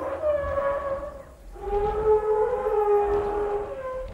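Sauropod dinosaur call from Jurassic World Evolution 2, two long, deep, tonal bellows with a siren-like rising and falling moan, loud and resonant over a low rumble, the second call longer and swelling.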